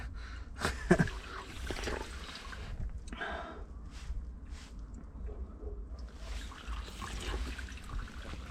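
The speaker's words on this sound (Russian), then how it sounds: "Сейчас сбегает вода, и она потом уходит прямиком в купель" Mountain spring water near Stary Krym in Crimea runs down into a stone bathing font in a soft, steady trickle, close by, with a brief breathy noise near the start.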